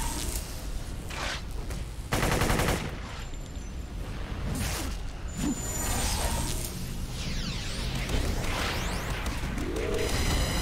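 Bursts of gunfire and crashing impacts from the City of Heroes video game pile up into dense, loud combat noise that continues throughout without pause.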